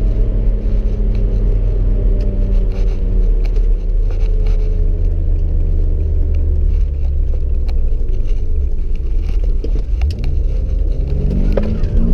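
A 1991 BMW 525i E34 engine drones steadily from inside the car on a country drive, its pitch sagging slowly before the revs climb sharply again at wide-open throttle toward the end. There is no speech.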